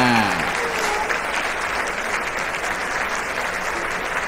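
An audience at a Thai radio debate event claps loudly and steadily for several seconds, a dense wash of applause with no voices standing out.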